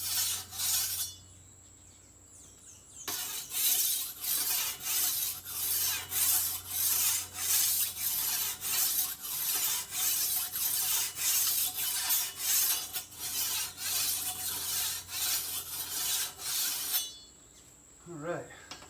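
Steel file rasping along a machete blade in a series of steady, even strokes, loud and close, with brief pauses at the start and near the end, on a fruit farm in Costa Rica.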